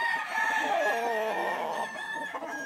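A young gamecock stag gives a strained, drawn-out crow with clucking notes, close and fairly loud, among farm ambience.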